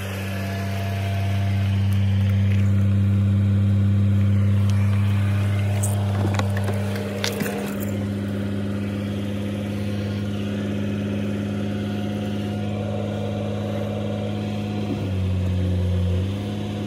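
A 2005 Mercedes-Benz CL600 W215 with a V12 engine runs on its own, a steady, loud, low idle rumble that shifts briefly partway through and settles again near the end.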